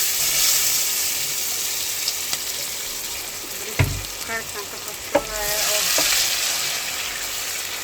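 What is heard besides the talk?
onion frying in hot oil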